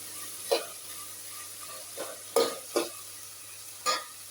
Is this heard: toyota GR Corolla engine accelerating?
no